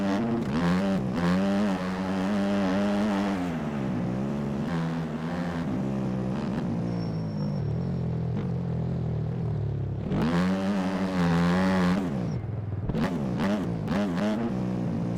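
A factory-edition Kawasaki KX250F motocross engine in MX Bikes revs up and down in long rising and falling pulls, loud and close with no talking, dropping briefly between bursts of throttle.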